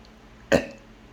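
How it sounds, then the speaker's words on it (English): A single short burp, loud and close, lasting about a quarter second before fading into quiet room tone, with no talk. "That wasn't a very convincing burp, that one, I must say."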